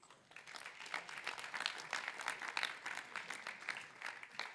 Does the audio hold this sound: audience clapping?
yes